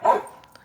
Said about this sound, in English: My dogs are going to start barking